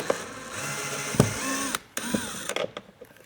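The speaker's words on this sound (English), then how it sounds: "Remove all the screws." Mechanical clicks and ratcheting of screws being backed out of the armrest trim of a 2025 Toyota Camry, several brief metallic ticks and a whirring tool against a steady room hiss, no speech.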